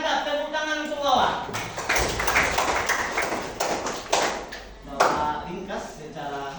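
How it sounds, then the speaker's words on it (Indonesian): A classroom of students applauds a classmate after an answer during a civics lesson, a dense, steady patter of hand claps that runs throughout, with a teacher's voice talking over it at the start and end. "tepuk tangan untuk bawa"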